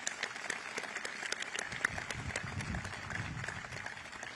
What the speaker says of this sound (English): Let's give your mom a big round of applause.